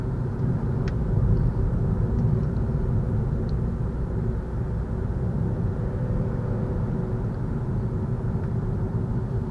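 A 2018 Ford EcoSport Titanium with four-wheel drive and a 2-liter engine, heard from inside while driving as a steady, low engine and road rumble with no voices.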